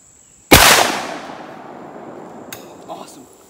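A shotgun fires a heavy load of steel BB shot with a wad: one sharp, loud blast whose boom decays over about a second, followed by a faint clack and light background noise.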